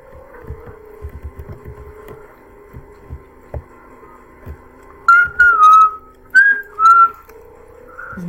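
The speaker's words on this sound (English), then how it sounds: "No time for whistling!" A person whistles several short, bright tones close by, about five notes in quick bursts near the end, after a stretch of quiet, dull thumps and low hum.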